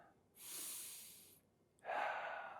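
Two distinct breaths, a long airy inhale then, after a short pause, a forceful exhale, taken close-up while holding a straightened-knee quad contraction in a hip and knee exercise.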